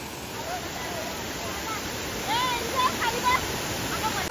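A waterfall near a farmhouse on a rainy day roars as a steady, full wash of rushing water, with faint voices briefly rising over it toward the end.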